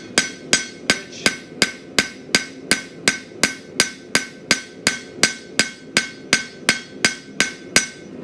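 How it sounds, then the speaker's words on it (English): A rounding hammer strikes coil spring steel on an anvil while a knife is being forged, about twenty sharp, ringing blows at an even, brisk rhythm, close and loud with no talking. "So here I'm switching to my rounding hammer"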